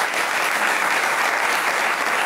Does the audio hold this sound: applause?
yes